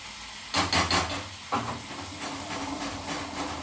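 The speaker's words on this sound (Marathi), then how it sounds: "मोहरीचा तडका दिल्यानंतर आपण हे शेंगदाण्याचं पेस्ट टाकू" Peanut paste is added to a mustard-seed tempering in a hot pan and gives a soft sizzling hiss that flares in a few quick bursts, then settles into a steady quiet crackle.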